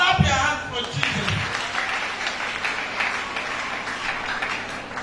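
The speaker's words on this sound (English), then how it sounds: "clap your hands for Jesus" A church congregation claps along at a service, a dense, steady wash of hand claps filling the space throughout, with a brief spoken or sung voice at the start.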